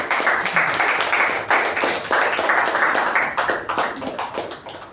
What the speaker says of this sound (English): please help me welcome our MC for the day, Toastmaster Apoorva, with a huge round of applause